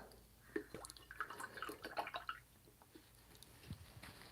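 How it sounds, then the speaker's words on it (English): Water added to paint during a painting session gives soft, close wet drips and squishy dabs in an irregular patter, faint and alone. "put a little bit of water in there now."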